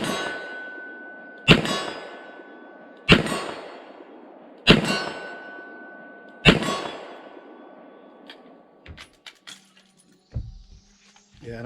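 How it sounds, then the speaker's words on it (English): Five loud, evenly spaced double-action shots from a Smith & Wesson Model 10 .38 Special revolver, each followed by a ringing clang off a 25-yard steel plate, then a few faint clicks and handling noises. "let's try the 25-yard plate, still shooting double, see if we can get some hits"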